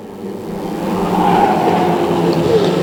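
Prostox race cars lapping the oval at Cowdenbeath Racewall, a steady blended engine roar that swells slightly and holds, with a higher engine whine rising briefly toward the end.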